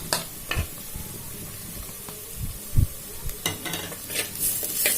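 Ginger garlic paste sautéing in a pan for a chicken and capsicum gravy, with close, loud scrapes and stirs of a spoon over a steady, soft sizzle, strokes coming in uneven bursts.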